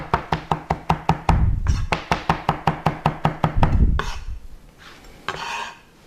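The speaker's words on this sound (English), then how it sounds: "I'm just going to chop it up." A knife chops food on a cutting board in a rough chop, about twenty quick, evenly spaced knocks with a brief pause halfway, followed by softer scraping and rustling. The sound is close and clear.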